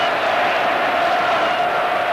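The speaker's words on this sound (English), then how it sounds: "There is absolute jubilation in the crowd." A stadium crowd roars with cheering at a 1987 Argentina versus Australia rugby test match, a dense, steady wall of noise from many voices that holds evenly throughout without breaks.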